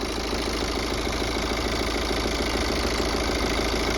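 A diesel car engine runs at idle after starting, a loud, steady, close rumble with constant low knocking throughout and no voices.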